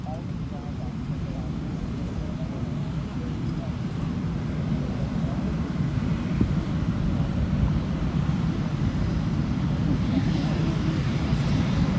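Blue Angels jets taxiing at NAS Pensacola, a steady low rumbling engine drone that builds slightly, heard outdoors with wind noise and a public-address voice talking over it.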